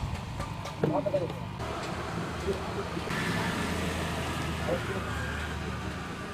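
Road traffic rumbles around a person seated in a vehicle on an Indian street, a steady low engine and road hum with passing vehicles, while someone talks over it.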